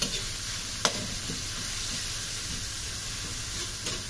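Pork with a little fat sautéing in a pan with ginger, garlic and onion, a steady close sizzle with light stirring scrapes and one sharp clack near the start.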